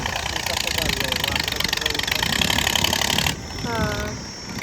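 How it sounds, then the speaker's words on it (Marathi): A farm tractor idles in a village field, its engine putting out a steady rough chugging at close range. Near the end the engine grows quieter and voices come in. "उद्या आपल्या पण वावरामध्ये असाच ट्रॅक्टर येणार आहे."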